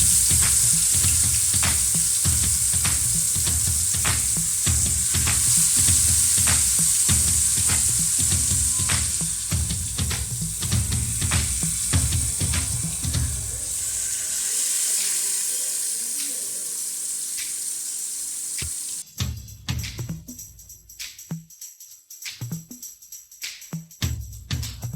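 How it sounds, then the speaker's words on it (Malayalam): Marinated manthal (sole) fish pieces sizzle and crackle steadily in hot oil, loud and close, with occasional stirring clatter; the sizzle fades around the midpoint, then running tap water and washing sounds follow. "പാത്രത്തിലേക്ക് എണ്ണ ഒഴിച്ച് പുരട്ടി വെച്ചിരിക്കുന്ന മീനുകൾ ഓരോന്നായി ഇതിലേക്ക് ഇട്ട് കൊടുക്കാം."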